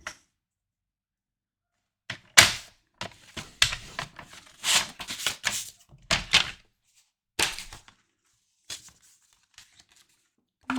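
Cardstock for a card front being trimmed on a paper trimmer, a series of sharp slicing swishes and thunks in irregular bursts with silent gaps between, close and dry, no talking.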